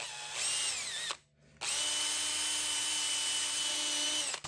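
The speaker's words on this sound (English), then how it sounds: "we're gonna drill through this 1/4 inch" A power drill whines steadily as it bores through 1/4-inch wood, stopping briefly once before starting again and running loud and continuous to the end.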